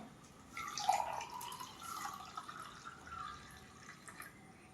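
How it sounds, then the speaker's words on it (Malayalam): Freshly blended banana stem juice pours in a soft, steady trickle into a container, faint and close, with a few drips and no talking. "ജ്യൂസ് റെഡി ആയിട്ടുണ്ടേ ഞാൻ ഒഴിക്കാൻ പോവാണേ"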